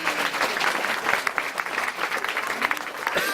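An audience at a club's 30th anniversary gathering applauds its former presidents, with dense, sustained clapping from a large crowd close by throughout.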